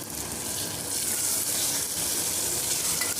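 Raw plantain pieces fry in a pan with tomato and tamarind for a South Indian pulusu, giving a continuous close, bright sizzle with faint stirring underneath and no talking.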